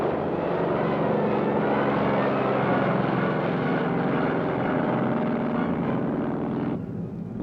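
Piston engine of a Grumman F6F fighter plane droning steadily and loudly at close range, a continuous heavy roar that holds level before dropping away abruptly near the end.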